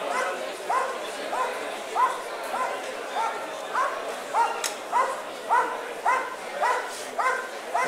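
A German shepherd police dog barks during protection training, a long, rhythmic series of about a dozen sharp barks at a regular pace, moderately close and fairly loud, with no one talking.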